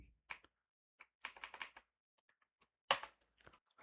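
Keys on a computer keyboard tapped in short bursts of quick strokes separated by pauses, with one louder clack near the end, close and clear with no talk.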